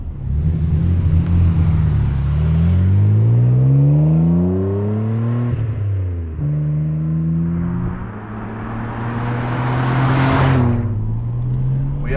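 A Nissan R33 GTR pulls hard on a road, its engine note climbing through a gear, dropping at a shift and then rising again, loud and close from inside the cabin.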